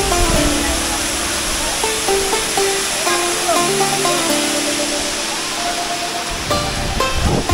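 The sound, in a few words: Khoyachhara waterfall, first tier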